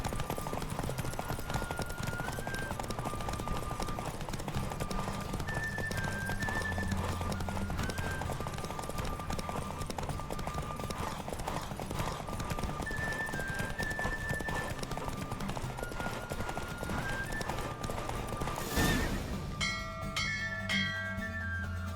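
Rapid galloping hooves from a horse race in The Witcher 3 keep up an even, loud rhythm over game music, ending near the finish with a bright bell-like chime and a shift in the background.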